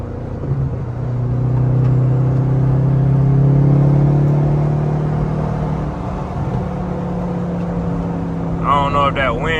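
A straight-piped Pontiac G8 GT heard from inside while driving, a deep droning engine tone swelling and easing under wind noise, with someone talking briefly near the end.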